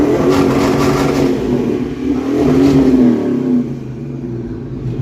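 A 1982 Ford Mustang GT engine revs up loudly and close by, rising then settling, with a rough mechanical clatter underneath.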